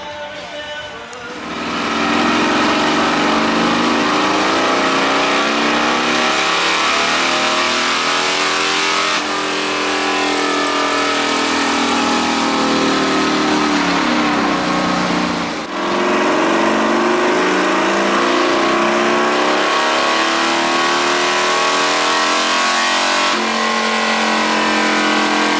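Motorcycles revving hard on a dyno at an outdoor bike show: a loud, sustained engine roar climbing and falling through several long pulls, with brief dips between runs and no talk.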